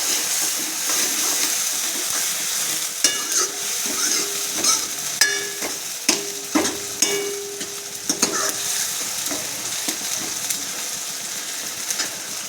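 Green onion and green garlic sautéing in a pan give a continuous hissing sizzle, broken by repeated sharp spatula clicks and scrapes through the middle stretch before settling back to a steady fry.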